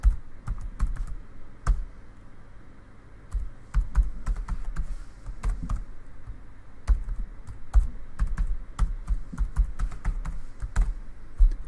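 A password is typed on a computer keyboard: bursts of crisp, close key clicks with short pauses between them, loud and alone with no voices.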